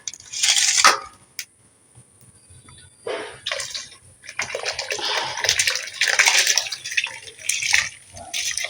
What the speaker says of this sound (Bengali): চালটাকে আমি তুলে দেবো এবার